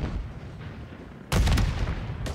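A grenade blast in Call of Duty: Modern Warfare III ranked multiplayer hits suddenly partway through as a loud, sharp boom with a rumbling tail, following a quieter stretch of game ambience.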